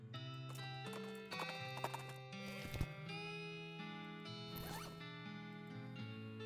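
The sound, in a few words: riding away on horse in video game West of Loathing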